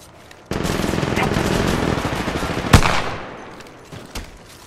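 Rapid automatic gunfire from a battle royale match in Apex Legends Mobile, played in third person: a dense, loud burst of shots lasting a couple of seconds, a sharp crack near the end, then a few scattered quieter shots.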